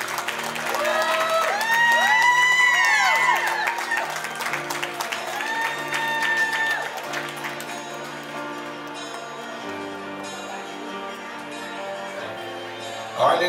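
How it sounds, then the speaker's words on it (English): Guests applauding and cheering at a quinceañera celebration, a dense clatter of clapping over loud party music that is strongest early on and thins out as the music carries on. "Big round of applause. Come on, guys. Nice and loud."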